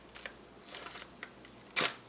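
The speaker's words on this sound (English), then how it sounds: "So we'll just put that onto bulb mode, lock our shutter open" Hasselblad CFVii50c camera set to bulb mode, its shutter locked open: a series of faint mechanical clicks and small handling noises, then one sharper, louder click near the end, in a quiet room.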